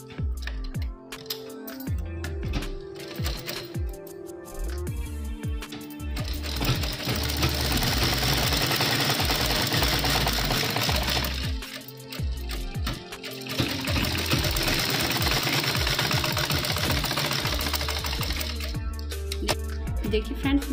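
A sewing machine runs a straight stitch on a small cloth cap for a Laddu Gopal figure, starting with short bursts and then settling into long, steady, loud whirring runs.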